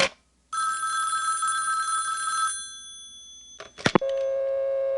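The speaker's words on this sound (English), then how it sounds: "even if you hung up and rang the phone." An old telephone line gives a long electronic ring tone lasting about two seconds, followed by silence. A few sharp clicks then lead into a steady, lower tone that continues to the end, and no one speaks.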